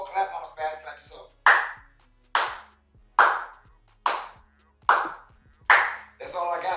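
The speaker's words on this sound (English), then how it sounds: "Can I get a medium clap" Six sharp claps land one at a time at an even, moderate pace, each with a brief echo, with someone talking just before and after.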